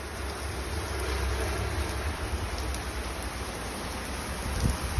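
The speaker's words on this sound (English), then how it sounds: "Horizontal rain." Heavy rain driven almost sideways by strong wind, a dense, steady roaring hiss that stays loud and constant throughout, with no voices.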